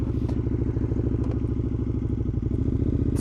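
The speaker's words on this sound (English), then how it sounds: "sometimes it can be too loud, and I think that is too loud." KTM Super Duke 1290 R (2017) motorcycle idling very loudly up close, a throbbing, rapid, even engine pulse with mechanical clatter throughout and no talking.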